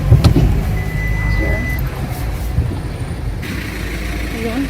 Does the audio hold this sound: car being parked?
yes